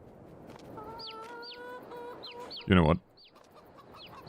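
Chickens cluck and chirp in the Farming Simulator 22 video game on the Fruehling farm map, in short repeated calls with a louder squawking burst near the middle, while someone speaks briefly.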